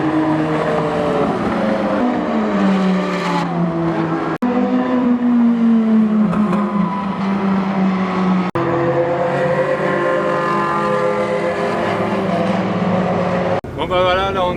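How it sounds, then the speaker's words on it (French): A Ferrari FF drives on the banked Montlhéry speed ring during an Italian car meeting, its engine a loud, continuous drone that climbs and falls in pitch with each gear and is heard close, as if from inside the car. "Ça fait bizarre de voir une FF qui roule comme ça."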